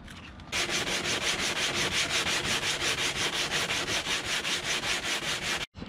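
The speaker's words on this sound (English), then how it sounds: "Let's do some sanding." Steady rhythmic sanding by hand with 120-grit sandpaper, rasping back and forth in even strokes close by, continuous for several seconds.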